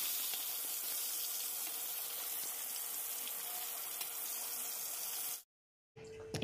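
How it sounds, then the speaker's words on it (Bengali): Tap water running steadily into a basin, a continuous rushing hiss heard close, cutting off abruptly near the end. "কলে যেহেতু জল চলে এসছে, আমি গামলা ভরতে বসিয়ে দিয়েছি।"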